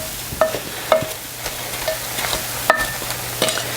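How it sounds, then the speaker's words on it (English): Cranberries with granulated sugar and vanilla extract are stirred in a pot, a spoon clinking sharply against the sides at irregular intervals over a faint simmering hiss. "mix it well and to cook the cranberries, stirring them often"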